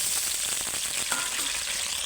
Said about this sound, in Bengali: আলুটা আগে আমি ভালো করে ভেজে নেব।